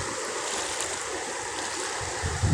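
A broad, steady rush of floodwater flowing down a river fills the scene, continuous and fairly loud, with a brief low thump near the end.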